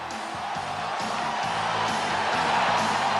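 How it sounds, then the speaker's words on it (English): Spectators at a 1997 lacrosse game cheer and whoop in a broad, sustained roar from a distance, running under continuous play-by-play commentary. "Crowd loves the great defense."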